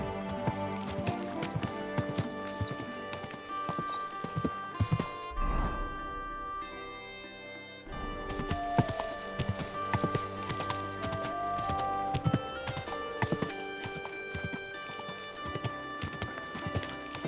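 Slow, steady hoof clip-clops of a walking horse in the video game Kingdom Come: Deliverance 2 repeat over a bed of music, with a brief pause midway before the rhythmic steps resume.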